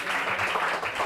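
Audience applause at a live show for the jury president, a brief burst of dense clapping at moderate volume with a faint murmur behind it.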